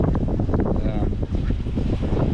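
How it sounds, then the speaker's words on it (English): Strong wind buffets the microphone in a steady, roaring rush, with low rumbling gusts throughout and faint talk underneath. "It's fucking windy"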